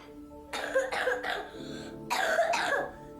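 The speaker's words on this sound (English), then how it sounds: "You're the first person that's actually coughed from that dust." A person coughs in a few harsh bursts, two quick coughs, a brief pause, then two more, fairly close and clear over a faint background hum.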